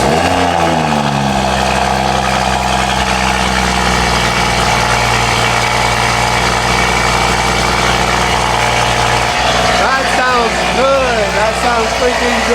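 A Toyota Supra A91 with a stock exhaust and an added downpipe, set in sport mode, starts with a short crank. It settles into a loud, steady, deep idle, with a brief throttle blip near the end.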